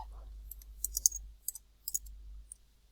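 Light typing on a computer keyboard, soft clustered key clicks in short irregular bursts over a low steady hum, fairly quiet and close.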